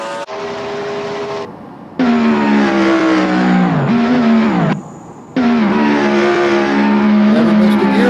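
A car engine revving hard through the gears, held steady notes dropping as the throttle backs off between upshifts, loud and close with no talk.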